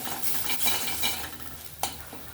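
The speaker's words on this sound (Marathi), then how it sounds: "छानपैकी हा मसाला आपल्याला खरपूस असा परतून घ्यायचा आहे" Masala is stirred and roasted in a pan for a festive vegetable dish: a soft sizzle runs under repeated scraping strokes of a spoon, with a sharp clink near the end, close and fairly quiet.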